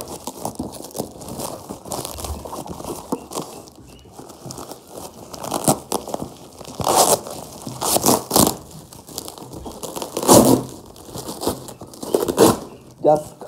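A carnivorous plant shipping package being torn open by hand, close crinkling and ripping bursts of paper and plastic, with a person talking in between.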